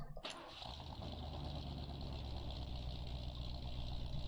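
A pickup truck engine catches and then idles in a low, even rumble, heard from inside the cab, steady and fairly quiet throughout.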